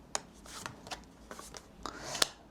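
Tarot cards are shuffled and drawn, giving soft riffling flicks and slides with a sharper snap near the end, close and quiet with no talking.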